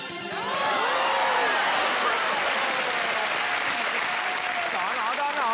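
Studio audience applause on the Family Fortunes game show, a loud, dense burst of clapping that swells quickly and holds steady for several seconds, with voices calling out over it.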